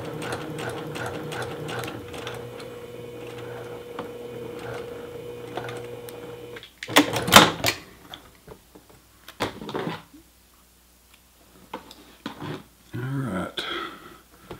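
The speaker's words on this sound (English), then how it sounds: "sewing my seams and stuff." A sewing machine runs steadily, stitching the shoulder seam of a men's T-shirt in a long, even mechanical buzz, then stops abruptly, followed by a few scattered clicks and handling noises with quiet gaps between them.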